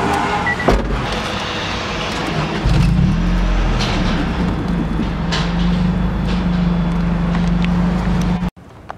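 A Honda Del Sol's engine, a steady close idle that deepens into a louder, fuller rumble as the car pulls away, then cuts off abruptly.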